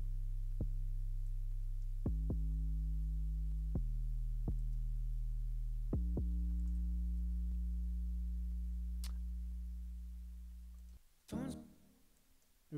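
An 808 bass line with added distortion and the high end cut away, deep sustained tones that start on several separate punchy hits and glide between notes, then fade out near the end.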